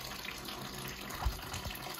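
Water from a flood upstairs streams steadily down from a ceiling into a room, a constant faint running trickle with a couple of soft splashes, heard alone with no talk.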